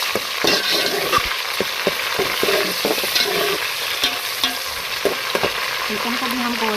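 Chicken pieces fry with golden onions in a pan for a Pakistani-style matar chicken pulao, giving a steady close sizzle with repeated stirring clatters and scrapes throughout, no talking.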